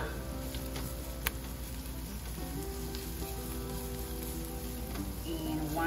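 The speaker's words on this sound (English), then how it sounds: "So we're going to add the minced garlic" Minced garlic and shallots fry in a pan with a steady, moderate sizzle that crackles continuously throughout, with one sharp tick near the start.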